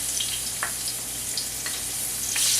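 Minced garlic, three or four cloves, sizzles in a hot wok with a steady close frying hiss and a few brief stirring scrapes throughout.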